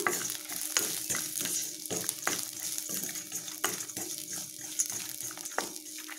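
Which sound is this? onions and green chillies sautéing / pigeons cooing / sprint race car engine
onions and green chillies sautéing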